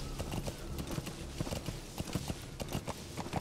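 Horse hooves clip-clopping at a steady trotting rhythm in Metal Gear Solid 5: The Phantom Pain, continuous and fairly close over faint game ambience.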